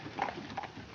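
Horses' hooves clip-clop on a street, a faint, muffled pair of hoof strikes under steady background noise in an old 1953 film noir soundtrack.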